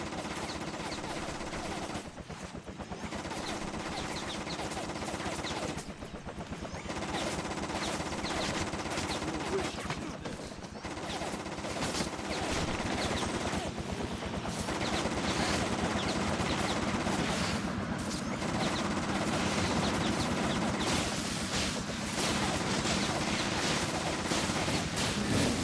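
Rapid, continuous gunfire in the superhero action game inFAMOUS 2, bursts of shots rattling one after another with only short gaps across the whole stretch, loud and dense throughout.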